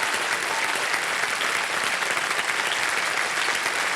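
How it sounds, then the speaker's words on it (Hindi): A studio audience at the KBC quiz show breaks into sustained, dense applause for a contestant, loud and even throughout, with no talking over it. "एक बार तालियां बज जाए इनके लिए"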